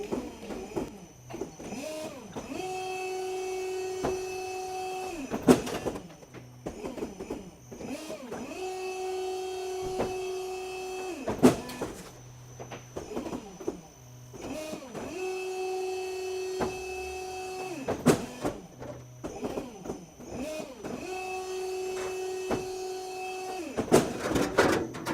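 A sheet metal folding machine bends Colorbond steel to form a rainhead overflow: four long, steady mechanical whirring cycles with a strong hum, each broken by sharp clanks and knocks between bends, close and moderately loud with no talk.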